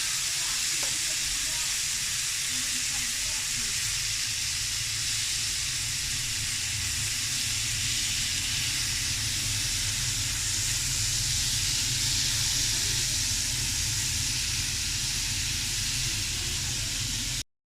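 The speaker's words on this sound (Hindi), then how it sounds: "टमाटोज़ डाल के मैं इसको थोड़ी देर फ्राई करूँगी।" Chopped tomatoes frying in a pan for a cheese omelette, a continuous steady hiss and sizzle with a low rumbling hum beneath, unchanging for the whole stretch.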